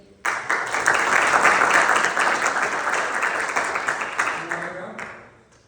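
Audience applause from a room of listeners after a student's self-introduction speech, a dense steady clapping that starts abruptly, holds strong for several seconds, then tapers off near the end.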